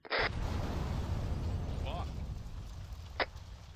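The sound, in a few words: explosion in a military video game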